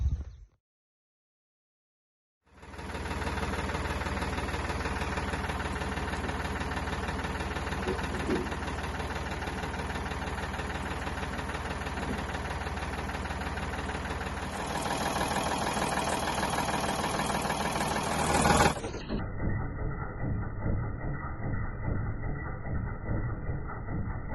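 The engine of a bucket-equipped machine idles close by with a constant low rumble and mechanical knocking, its tone shifting near the end as the revs change.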